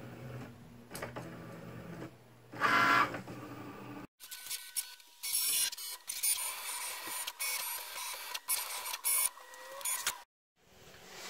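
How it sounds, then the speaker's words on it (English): A Cricut cutting machine works through a design with whirring carriage motor runs, clicks and short bursts of movement, stopping and starting unevenly across the stretch. "I'm going to hit the flashing cut button, and then my machine will go ahead and take care of the rest"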